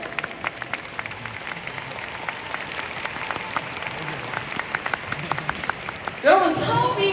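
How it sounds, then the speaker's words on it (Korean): An audience at a Riway company system-course seminar claps steadily for about six seconds, a dense wash of many hands, then a louder, different sound takes over at the very end. "큰 박수 보내주시죠."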